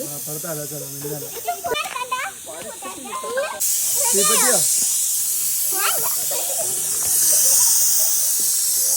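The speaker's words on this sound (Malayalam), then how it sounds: "പൂളി ഇറക്കി ആവി വന്നുകൊണ്ടിരിക്കണുള്ളൂ" A person talks briefly, then steam from a pot of cooking tapioca hisses in a loud, steady rush that keeps going and swells near the end.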